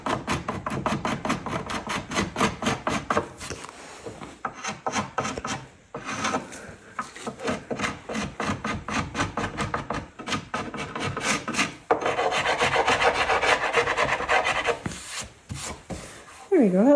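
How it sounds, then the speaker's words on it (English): Scraping along the edge of 1912 tiger oak wood veneer to make it flush, rapid rhythmic rasping strokes in close bursts with short pauses between. "Just gonna scrape off this edge so it's nice and flush."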